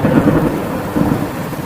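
A cartoon thunderstorm over a farming village: heavy rain roars steadily beneath a low, rolling rumble of thunder, with no voices.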